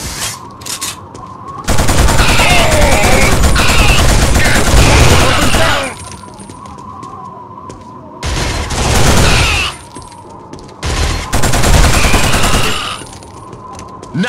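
Bursts of automatic gunfire and explosions from the PS2 shooter Killzone, loud and dense in several long volleys separated by brief quieter gaps with background game ambience.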